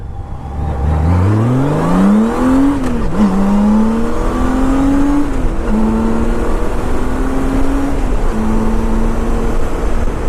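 A Honda Goldwing motorcycle accelerates hard and close, its engine note climbing steadily through several gear changes with brief dips between shifts, loud and continuous with no talk.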